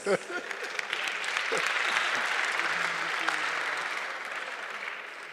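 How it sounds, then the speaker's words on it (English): Classmates in a lecture hall clap for a student who offered an answer, a sustained burst of applause that swells and then slowly thins out. "Yeah, you must clap for him."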